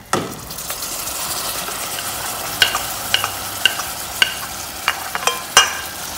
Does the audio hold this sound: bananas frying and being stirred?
yes